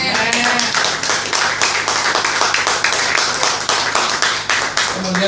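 A church congregation claps at a Surabaya revival service, a steady run of close, fairly loud claps falling in an even beat.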